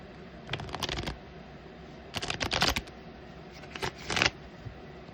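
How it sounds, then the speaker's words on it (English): Tarot cards being shuffled by hand, heard close up in three separate bursts of crisp riffling and flapping with quiet pauses between them, no talking. "Cards are done shuffling."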